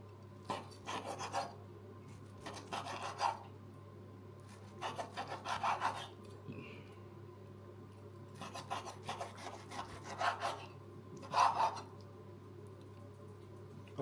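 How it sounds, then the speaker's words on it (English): A chunk of Parmesan cheese is grated in short rasping bursts, about five or six separate runs of quick scraping strokes with pauses between them. The sound is close but fairly quiet, over a low steady background hum. "I've also got a nice little chunk of Parmesan cheese that'll grate over everything"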